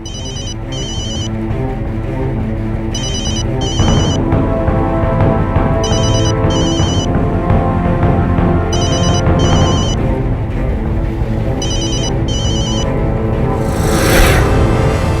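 A phone ringtone rings in repeated paired bursts, about every three seconds, over a steady musical background in a TV drama scene.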